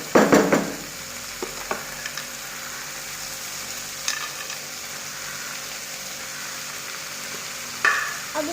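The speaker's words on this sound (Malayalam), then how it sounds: "അതിനുശേഷം നന്നായി ഇളക്കി കൊടുക്കുക." Grated coconut frying in a pan while being stirred gives a loud sizzle and scrape at the start, then a softer steady crackle with occasional light utensil taps and another burst of stirring near the end.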